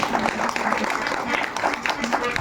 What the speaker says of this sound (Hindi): सभी जनों से निवेदन है कि एक बार जोरदार ताली बजाएं आप